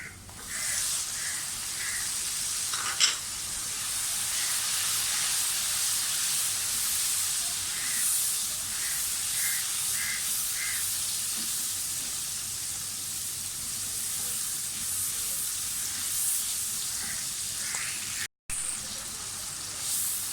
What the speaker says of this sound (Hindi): थोड़ा सा इनको फ्राई करना है ऑयल में, सिर्फ 3-4 सेकंड के लिए। साथ ही हम अब ये पेस्ट डाल देंगे।